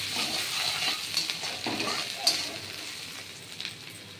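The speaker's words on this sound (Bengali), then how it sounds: "দিয়ে এই ঘিয়ের মধ্যে এই মশলাটা ভেজে নিলাম।" Spices fry in hot ghee in a pan while chana dal is being made, a soft, steady sizzle with intermittent crackling pops and faint stirring scrapes, close and fairly quiet.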